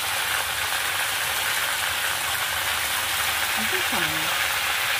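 Cauliflower pieces fry in a wok with turmeric and salt, giving a steady broadband sizzle throughout with a brief soft tonal blip near the end.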